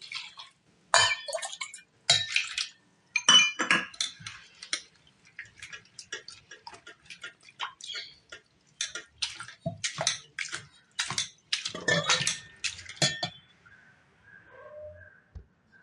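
Poha (flattened rice) being washed by hand in a large vessel of water, with repeated sloshing and swishing bursts in an irregular rhythm, close and fairly loud, ending with a few quieter drips.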